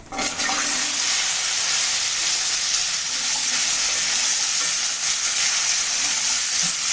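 Taro (kochu mukhi) fries in oil with dried chilli, bay leaf, whole cumin and turmeric, giving a loud, continuous hiss and sizzle close up, with faint stirring scrapes underneath.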